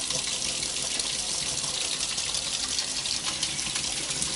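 Hot tap water runs in a steady, loud, unbroken rush for the whole stretch, close by, with no talking.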